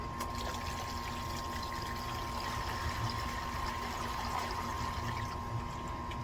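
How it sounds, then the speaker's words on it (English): Water poured steadily for several seconds while patching holes in a wall, a continuous soft splashing trickle over a faint constant hum, with no one talking. "Maybe I'll pour the water so we don't get a bunch of smoke"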